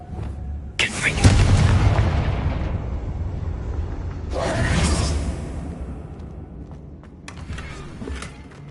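A Confringo blasting curse fired in Hogwarts Legacy bursts into two big booming explosions with whooshing tails that rumble and fade, followed by lighter crackles, with a voice heard alongside.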